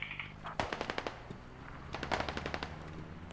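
Rapid bursts of automatic rifle fire in the military shooter game Squad, sharp cracks in quick rhythmic volleys near and loud, with brief pauses between bursts and no talk.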